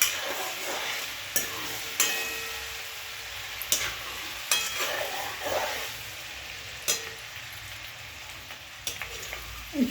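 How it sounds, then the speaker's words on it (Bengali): Potato slices fry in hot oil with a constant crackling sizzle, punctuated by occasional sharp pops and light utensil taps, close and fairly quiet. "দেখুন, আমরা এখন এই তেলটা গরম হয়ে গেছে, এর মধ্যে অল্প অল্প করে এরকম আলু ছেড়ে দেবো।"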